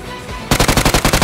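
Rapid automatic gunfire in the mobile shooter Game for Peace: after a quiet half-second, a loud, close burst of about ten evenly spaced shots rattles off in quick rhythm.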